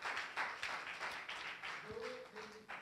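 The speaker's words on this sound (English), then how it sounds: "Give the Lord a hand clap for what he's about to do." A church congregation claps their hands together in a loose, uneven patter of many palms that carries on steadily throughout, with a faint low tone sounding near the end.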